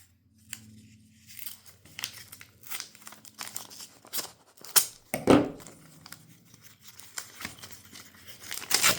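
A paper envelope of WWI and WWII militaria being torn and opened, with close crinkling, tearing and snipping bursts coming in irregular clusters, including one louder rip partway through; no talking.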